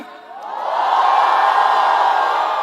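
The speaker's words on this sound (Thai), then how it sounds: "ส่งเสียงโห่ร้องไปยังทำเนียบรัฐบาลอีกครั้งหนึ่ง" A large protest crowd near Government House lets out a swelling collective roar of booing and shouting, rising over the first second and holding loud and sustained throughout.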